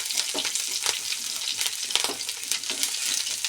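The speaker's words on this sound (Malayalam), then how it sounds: "കുറച്ച് കടുക് ഇടാം. കടുക് പൊട്ടി ഇഞ്ചി ഇടാം." Mustard seeds crackle and splutter in hot oil for wheat upma, a dense close sizzle scattered with sharp pops and light stirring, heard alone without talk.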